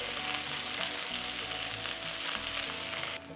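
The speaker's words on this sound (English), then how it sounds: "oil in the pan, don't need too much. Okay, in with our chili paste." Chili paste sizzles and fries in a little oil in a pan over moderate flame, a steady close crackling hiss that runs throughout with a brief clatter at the end.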